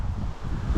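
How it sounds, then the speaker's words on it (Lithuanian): Strong gusting wind buffets the microphone on an exposed hilltop by a small church in Upninkai, Lithuania, near the Šventoji river, a steady low roar that swells toward the end, with no talk. "Vėjas žiauriai pakilęs."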